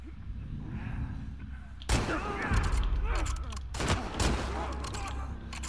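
Gunfire in The Last of Us Part II arrives as sharp, loud shots in a couple of bursts, the first sudden after a quiet stretch and another a few seconds later, over rumbling game ambience.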